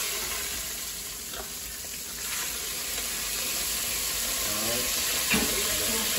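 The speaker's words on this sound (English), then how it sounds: "let's get another piece in the fryer" Catfish pieces, freshly caught and cut from a 27-inch fish, sizzle steadily in a deep fryer, a continuous hiss of hot oil with faint bubbling and a few brief clinks throughout.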